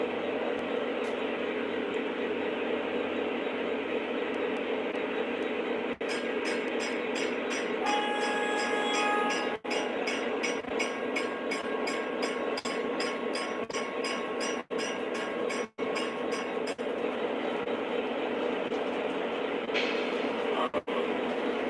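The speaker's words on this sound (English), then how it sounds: "So let me start the trolley up. Streetcar, correction. This one is Proto 2, MTH 2." An MTH Proto 2 model streetcar runs continuously along its track, giving a steady mechanical rumble and whir with periodic clicking as it passes over rail joints, with brief beeps and sounds partway through.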